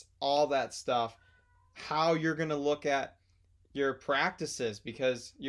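A pet cat meows in a room, its voiced calls mixed in among close, steady conversational speech that carries on throughout.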